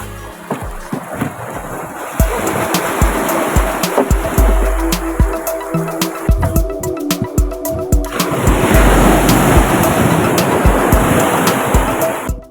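Sea waves wash and surge with a continuous rushing roar at night offshore, louder in the second half, with clattering knocks and wind noise close by.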